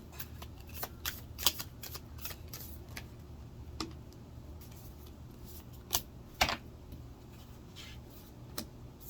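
Tarot cards are shuffled quietly and close by, giving a run of crisp, irregular flicks and snaps with a few sharper riffles standing out. No one talks.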